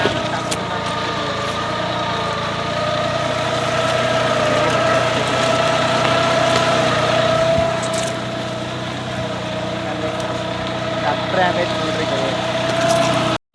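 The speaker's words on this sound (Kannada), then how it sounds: "ನೋಡ್ರಿ ಇಲ್ಲಿ ಕಬ್ಬಿಗೆ ಟ್ರಾಕ್ಟರ್ ಹೊಡಿತೇವೆ ನೋಡ್ರಿ" A tractor engine idles close by in a sugarcane field for the whole stretch, a constant droning hum with a faint whine above it.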